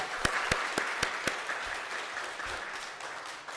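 A church congregation claps after a hymn during a Sunday worship service, starting with several sharp, loud individual claps and swelling into a steady, sustained round of applause in a reverberant hall.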